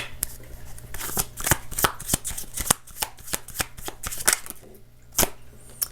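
Tarot cards being shuffled by hand for a reading, a close run of crisp riffling snaps and flicks that come in quick uneven bursts, fairly loud with no talk.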